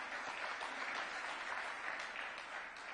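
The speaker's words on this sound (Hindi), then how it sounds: "महिलाओं ने तो ताली बजा दी," Women in an audience applaud at an event where Rajnath Singh is speaking, a steady, dense wash of clapping that holds at an even level throughout without breaks.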